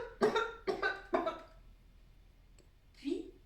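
Three quick, harsh coughs in a row, close and fairly loud, followed by a short breathy sound.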